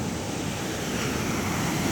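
Large ocean waves at a surfing beach in Aceh at night produce a continuous broad roar of surf, loud and steady with wind noise mixed in and no talking.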